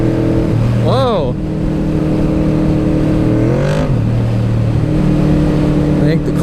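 Yamaha VMAX motorcycle with a slipping clutch, its engine revving up sharply twice over a loud continuous idle, heard close and loud.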